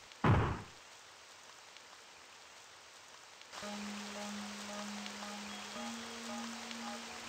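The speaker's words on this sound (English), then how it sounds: "It looks like the rain will continue this evening." Steady rain in an RPG Maker horror game, a soft even hiss running throughout after a brief louder burst at the start, later joined by a low sustained hum and faint tones.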